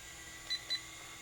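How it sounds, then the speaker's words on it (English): A SYMA S107H-E remote control helicopter controller gives two short, high electronic beeps in quick succession, faint over a low steady background hum. "Now on the right side, you heard 2 beeps."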